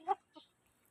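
A broodcock rooster at a game farm gives two short, close clucks, the first louder than the second, followed by quiet.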